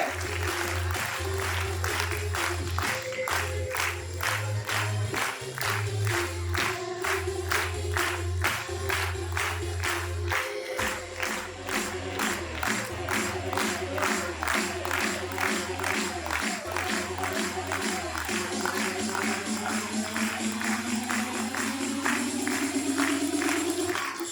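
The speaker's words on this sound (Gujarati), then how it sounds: "છોકરાઓ તાળીઓ એટલી જોરથી વગાડો કે સફળતા પર ગર્વ અનુભવે." Sustained applause from a crowd at a school annual day event, steady rhythmic clapping that continues throughout, with a voice speaking over it at times.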